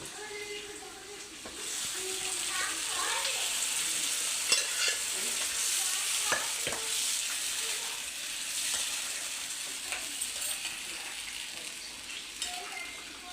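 Onions fry in a pan of Andhra-style mutton drumstick curry, a steady close sizzle running throughout with intermittent scraping and clinks as they are stirred.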